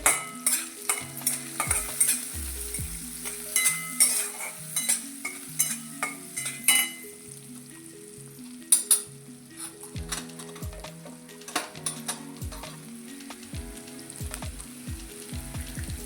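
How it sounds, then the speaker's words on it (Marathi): Onion fries with salt and turmeric in a pan, a steady sizzle under a close run of rhythmic metal spatula scrapes and clanks against the pan that pause briefly midway and then resume. "थोडं मीठ टाकते म्हणजे लवकर कांदा फ्राय होतो हळद टाकत आहे"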